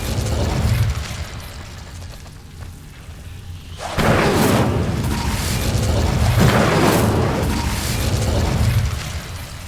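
Incendio fire spell cast in Hogwarts Legacy: a sudden loud whooshing burst at about four seconds, followed by sustained roaring fire-like swells, with a second surge partway through.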